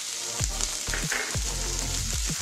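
Green chillies sizzle steadily in hot oil for a homemade carrot and potato Manchurian, with a dense continuous fry hiss and several low thumps from the pan or spoon, close and fairly loud with no talking.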